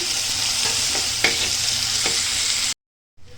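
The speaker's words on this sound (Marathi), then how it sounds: "आता आपण कांदाही परतवून घेऊयात कांदा आणि टोमॅटो हे परतवून घेऊयात" Onion and tomato sauté in hot oil with curry leaves, a steady close sizzle broken by a few spoon scrapes against the pan, then a sudden cut to silence near the end.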